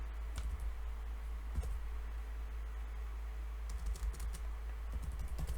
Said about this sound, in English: let's just type in the word Taiwan right now.